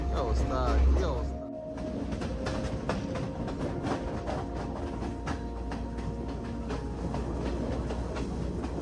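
A passenger train runs along a line in Sri Lanka, a continuous rumbling roar with rhythmic rattling and clatter from the cars, heard close and steady, with people talking beneath it.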